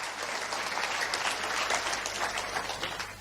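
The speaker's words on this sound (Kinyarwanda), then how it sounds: "So give a hand clap to Jesus." A church congregation claps hands together in sustained, steady applause, dense and fairly close, with no talking over it.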